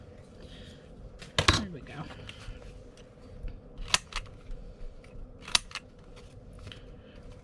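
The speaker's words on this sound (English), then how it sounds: "So I think I want to trim a little off the bottom here." Paper being trimmed with scissors during a craft session, giving a few sharp snipping bursts close by, with soft handling noise between cuts and brief talk over it.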